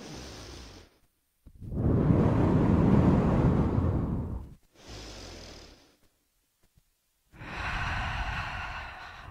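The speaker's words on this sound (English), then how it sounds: "2 more breaths." Deep, slow breathing in a power yoga class: long audible inhales and exhales alternate with stretches of near silence, close to the microphone, with no talking.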